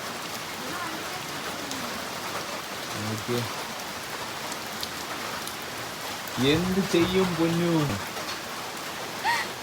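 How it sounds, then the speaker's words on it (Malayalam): Heavy rain pours down in a continuous hiss with drop spatter throughout, while a person speaks briefly over it in two short bursts. "ഫുൾ മഴയാണ്."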